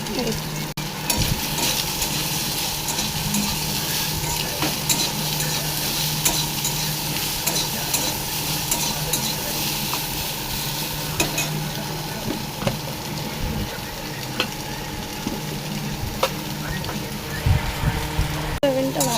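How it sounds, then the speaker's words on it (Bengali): Soybean chunks frying in hot oil in a pan, giving a continuous crackling sizzle with scattered pops and stirring scrapes at a steady, moderate level. "ভালো করে গরম করে এবার সোয়াবিনগুলো মধ্যে ছেড়ে দেবো, ভালো করে লাল লাল করে ভেজে নেব।"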